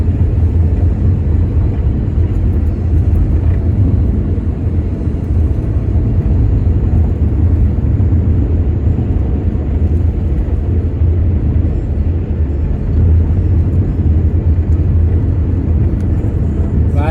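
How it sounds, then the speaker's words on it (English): Car cruising steadily along rural county roads outside Columbia, Boone County, with a constant low engine and road rumble throughout and no breaks. "I just love driving these roads out in the county"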